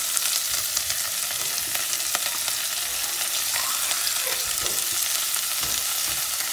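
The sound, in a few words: sautéing vegetables and onions in a pan for a tart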